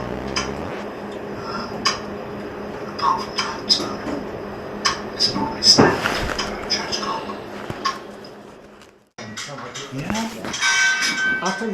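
A pendulum clock in a wooden cabinet at Weedon Bec Ordnance Depot ticks and rings out metallic chimes. The chimes sound clearly over a steady tick while people talk nearby. After a short lull, the chiming rises again.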